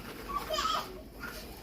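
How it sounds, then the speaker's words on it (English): Children play somewhere in a home kitchen while jalapeno mac and cheese is being made, their faint, high voices rising briefly over quiet background noise. "Excuse my kids in the background."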